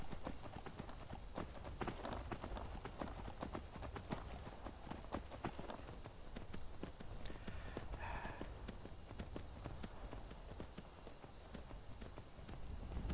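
Horse hooves galloping in the video game Skyrim, a continuous fast clip-clop rhythm running throughout under a steady ambient game background, no pauses.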